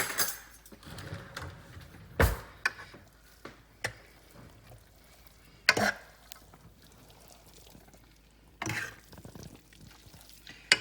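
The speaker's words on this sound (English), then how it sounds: "I think I'm going to get 2 forks instead to mix it up" Two forks tossing hot spaghetti carbonara in a bowl, giving soft intermittent scraping and clinking with a few sharper knocks spread across a quiet background.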